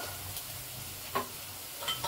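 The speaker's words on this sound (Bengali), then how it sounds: "এবার এটাকে ভালো করে নাড়ব।" Ground coriander and cumin stir-fry in a little oil in a pressure cooker for egg curry, a soft low sizzle broken by a few light scraping stirs, fairly quiet with no talking.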